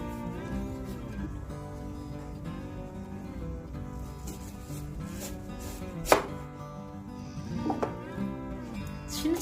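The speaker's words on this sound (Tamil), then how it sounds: "சின்ன சின்னதா வெங்காயத்தை நறுக்கிக்கோங்க. ரொம்ப சின்னதா இருக்கணும்." Onions are chopped into small pieces for vadai with a knife on a board, a run of quick, light cutting strokes beneath louder, continuous background music.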